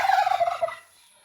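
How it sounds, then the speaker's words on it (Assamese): A turkey gobbles in a quick, rattling burst lasting under a second, close and fairly loud, then it goes quiet. "টাৰ্কি চৰাই"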